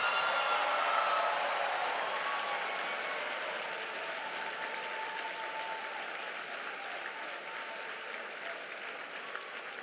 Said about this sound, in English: Let's give this class a big round of applause